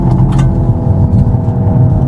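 Hyundai Ioniq 5 N electric car producing a low, continuous gurgling engine-like drone while being driven dynamically, loud and steady throughout with no talk over it.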